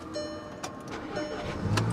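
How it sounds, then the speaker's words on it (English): A Volkswagen CC Sport's engine cranks and catches, followed by a steady idle, heard close with a few clicks and thumps and a rising hum near the end. "She fires up. She runs."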